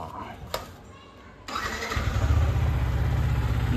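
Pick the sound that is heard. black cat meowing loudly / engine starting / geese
engine starting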